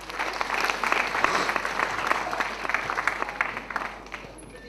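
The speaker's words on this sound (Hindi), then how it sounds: "Can I request all of you to please put your hands together for Mr. Dinesh Kumar?" An audience at a customs day poetry recital bursts into dense, lively applause for the poet, holding steady for a few seconds before tapering off, with some faint voices in the crowd.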